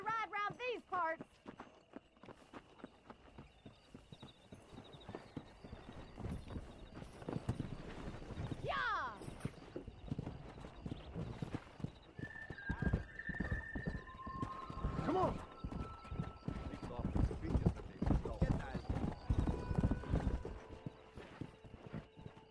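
Horse hooves in Red Dead Redemption 2 clip-clopping and galloping steadily throughout, with an occasional whinny, while game characters talk over the riding.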